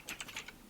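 Quick burst of computer keyboard typing while code is entered, several soft rapid key clicks close by with no talk.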